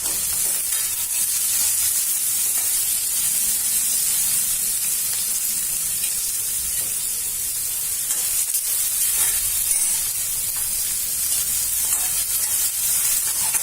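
Onions sizzle in hot oil in a pan for kande pohe, a steady bright frying hiss holding evenly throughout with no pauses, close and fairly loud, with no talk.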